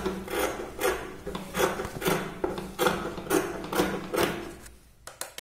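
Scissors cut blouse fabric in rhythmic rasping strokes, about eight close snips at a steady pace, the last few quicker and then stopping, with no talking.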